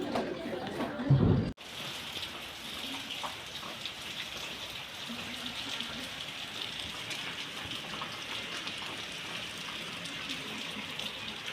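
Steady rain patters continuously on surfaces nearby, a soft even hiss after a brief moment of a voice at the start.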